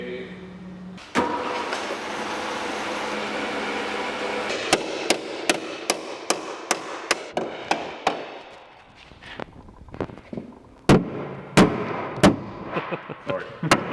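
Hammer taps ring out on the TCA mount of a turbo Ford Escort during a gearbox fit, a quick run of sharp metallic strikes followed by a few louder, spaced blows, with a steady background rumble early on.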